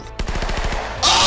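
Rapid automatic gunfire rattles out in a video game, a close, loud burst of evenly spaced shots, followed by a sudden harsh hiss of noise.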